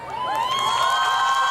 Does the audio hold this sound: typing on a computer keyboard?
no